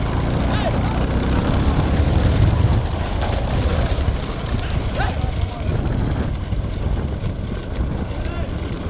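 Hooves drum steadily under a loud crowd and excited shouting at a small-bull bullock cart race, the running bulls and carts heard amid constant noise and a commentator's voice.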